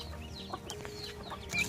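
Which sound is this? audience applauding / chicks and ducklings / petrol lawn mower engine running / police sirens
chicks and ducklings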